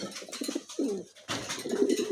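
Pigeons, including a Spanish breed offered for sale, coo in a series of low, throaty, rolling calls close by, one bird repeating short warbling phrases with a brief pause midway.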